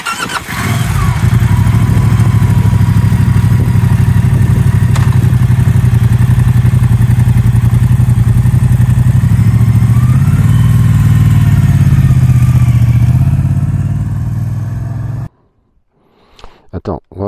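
Moto Guzzi Stelvio 2024 motorcycle engine started in neutral, a loud steady idle rumble that holds for about fifteen seconds, with a brief rise in revs near the end before it cuts to near silence.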